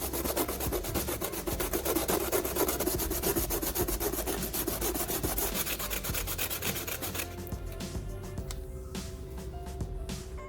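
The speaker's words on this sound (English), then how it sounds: "Then, I sand the bottom until it becomes thin." Sanding the bottom of an aluminum beer can thin, a continuous rapid rasping scrub that runs steadily for several seconds before easing into lighter strokes and handling noise.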